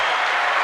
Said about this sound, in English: Round of applause again, if you don't mind